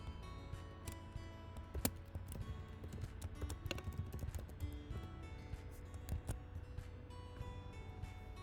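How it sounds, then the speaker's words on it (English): Continuous computer keyboard typing, a steady run of close, crisp key clicks with occasional louder taps, heard alone without talk. "and start typing."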